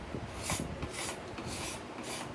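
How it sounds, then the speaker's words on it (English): A scraper drawn over a bass guitar neck takes off excess epoxy in quick, close strokes, about four or five short rasping passes in an even rhythm. "Then I'm using a scraper to get some of the excess epoxy off."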